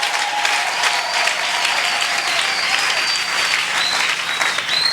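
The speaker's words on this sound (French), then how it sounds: "Acclamez encore pour moi." A church congregation applauds during a sermon, with dense, steady clapping from a large crowd that carries on for the whole stretch.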